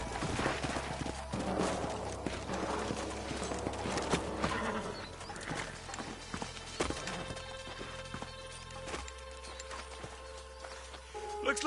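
Horses' hooves clip-clop in a western video game, several animals walking and settling near the listener with an occasional snort or whinny, while voices talk over them.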